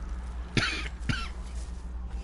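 Two harsh, close coughs from a player during a Destiny 2 Shadowkeep gaming session, sharp bursts about half a second apart, followed by quiet room tone and faint game sound.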